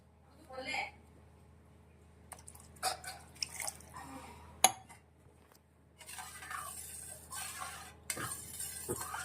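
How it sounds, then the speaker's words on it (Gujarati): Half a glass of water poured into dal in a pot, giving drips, splashes and light clinks of a vessel, close by, while a person speaks in between. "હવે એમાં આપણે અડધો ગ્લાસ જેટલું પાણી એડ કરીશું"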